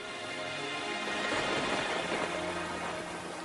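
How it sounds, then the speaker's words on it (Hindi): Steady rain falls outside a house, a dense, even hiss that holds at a constant level with no voices. "बाहर बारिश हो रही है।"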